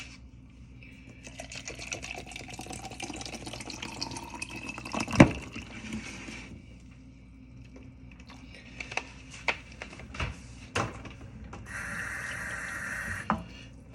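Water pours over fruit-infused flavored ice in a continuous liquid fill, joined by occasional clinks and taps, with a brief gurgling burst near the end.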